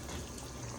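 Water is poured into a cooking pot for fish curry in a home kitchen, a steady, faint trickling splash heard alone for under a second.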